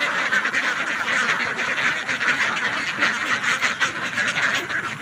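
A flock of pet ducks quacks busily and continuously while being fed, with many overlapping calls close by.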